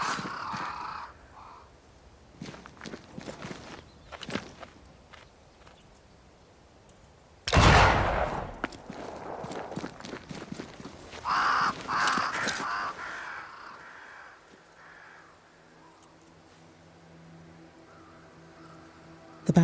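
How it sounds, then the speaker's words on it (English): Crows cawing around a great tree in Banishers: Ghosts of New Eden, scattered calls among rustling ambience with a louder burst of activity midway before fading to a low hum. "Crows. They flock to that great tree up there."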